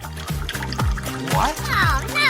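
Juice pours from a special tap into a glass with gurgling, trickling liquid sounds, heard close and moderately loud with rising fill tones, while people talk over it.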